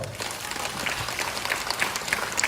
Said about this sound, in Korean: 박수 한번 크게 줘보세요